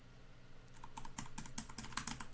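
Keys clatter on a computer keyboard in quick, uneven bursts, close and clear over a low room hum, with no talking.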